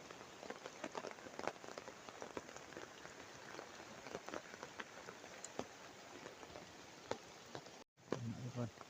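Heavy rain falling in southern Thailand, a steady dense hiss of drops pattering on surfaces throughout, with a brief cut near the end.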